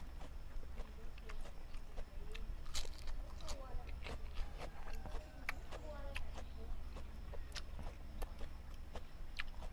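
Crunchy lettuce eaten with fried spring rolls, repeated crisp bites and chewing crackles close to the mic, steady through the clip with a faint background hum and some talk.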